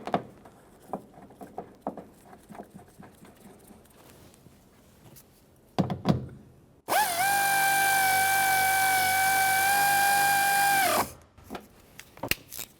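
A tool runs the seat belt bolt in on a 1999-2006 Chevrolet Silverado 1500, giving a loud, steady whirring whine for about four seconds between scattered quieter clicks and handling noises.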